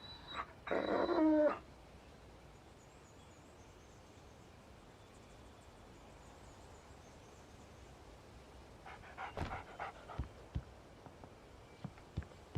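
Dog in the game Alan Wake Remastered giving a short burst of whimpering near the start, then quiet ambience until scattered soft steps and small sounds near the end.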